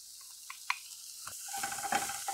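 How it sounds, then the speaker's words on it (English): Taco meat with beans, garlic and taco seasoning being stirred in a pan, a soft steady sizzle with scraping utensil strokes and a few light clicks, fairly quiet and close. "Mix here, make sure everything's incorporated, get all the flavors mixing up"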